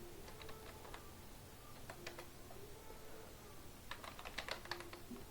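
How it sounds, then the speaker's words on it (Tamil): Typing on a computer keyboard into a browser search, quiet clicking keystrokes in short uneven bursts with brief pauses, faint over a low background hum. "பூட்டபிள் யூஎஸ்பின்னு மட்டும் டைப் பண்ணுங்கள்."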